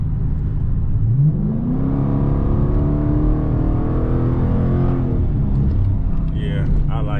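Dodge Challenger R/T with a mid muffler and resonator delete, its engine droning and rising in pitch in a steady rev, heard close and loud from inside the car while people talk over it.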